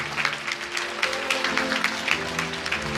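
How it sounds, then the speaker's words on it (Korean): Brief burst of steady crowd clapping at an outdoor Busan welfare rally before the 2018 local elections, dense and even at moderate volume. "다시 한번 큰 박수 부탁드리겠습니다."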